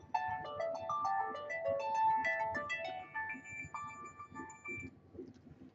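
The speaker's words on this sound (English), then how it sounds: "I have my phone's ringing." A melodic phone ringtone plays a bright, stepping tune of chiming notes, with faint tapping and rustling beneath it.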